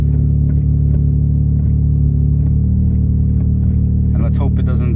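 A Mazda RX-7 FD3S, just fitted with a new alternator, drives off with a steady low engine rumble and road noise heard from inside the car, loud and constant throughout.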